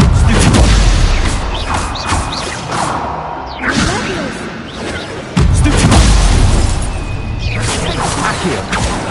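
Incendio fire spells cast in Hogwarts Legacy, loud whooshing bursts with booming impacts, repeated several times in combat amid game sounds.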